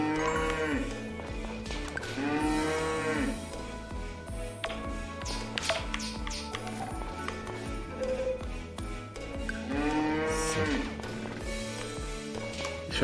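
Cows moo repeatedly over a steady looping soundtrack in Story of Seasons: Friends of Mineraltown, with a few shorter calls in between; no one speaks.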